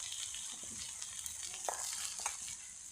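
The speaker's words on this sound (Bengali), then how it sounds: "তারপর তাতে জল একটু দিয়ে দিচ্ছি।" Papaya and pea curry sizzling in a pan as a little water goes in, a dense hiss and crackle with soft stirring scrapes, close and continuous.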